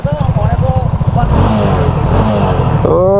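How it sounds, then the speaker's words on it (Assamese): A Honda 300 cc motorcycle's exhaust throbs with a steady low engine pulse throughout, close by, while someone talks over it. "চব দেখোন এক্সজষ্টৰ চাউণ্ড"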